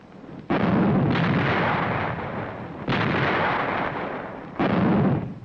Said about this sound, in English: Artillery joined the concert of mortars, increasing the effect